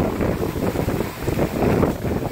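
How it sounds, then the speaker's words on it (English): Strong hurricane wind gusting through Clermont, Florida, roaring steadily and close with a dense, broadband rush that swells and eases across the moment, buffeting the microphone. "There comes another gust."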